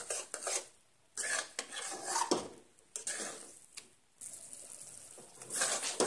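A spoon stirs banana semolina halwa in a pan, making close, repeated bursts of scraping and clinking against the metal, with short quiet pauses between strokes and no talking.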